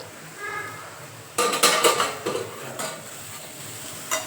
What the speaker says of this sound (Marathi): आता आपण झाकण ठेवून घ्यायचं